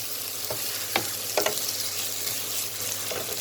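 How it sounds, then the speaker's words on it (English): Roti noodles frying in oil in a pan, with a steady sizzle throughout and a few short scraping clicks from stirring. "After frying it for a few seconds"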